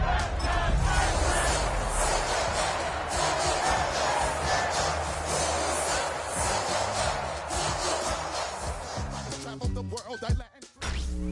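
A stadium crowd in the Madden 26 football video game roars and cheers steadily and loudly for several seconds before the noise drops away abruptly near the end.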